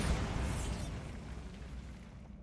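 A Bombarda spell explodes in Hogwarts Legacy as one dense, loud boom with a low rumble that fades slowly over about two seconds.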